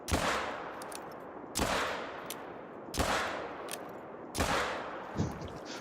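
Rifle shots in the hunting game theHunter: Call of the Wild, Yukon Valley, four loud separate gunshots spaced about a second and a half apart, each with a long rolling echo tail fading into quiet outdoor ambience.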